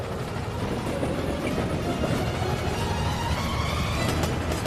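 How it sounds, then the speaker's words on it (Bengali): A train approaches and rolls past in a steady, loud, continuous rumble with faint rhythmic clatter of wheels, filling the whole stretch without any voices. "নোলান, ট্রেনটাকে পাঠাও। ট্রেন আসছে।"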